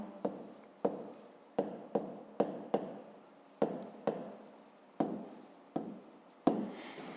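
A pen writing by hand on paper while working a math problem, with close, distinct strokes that each start with a sharp tap and fade quickly, about a dozen in an uneven rhythm and no voice.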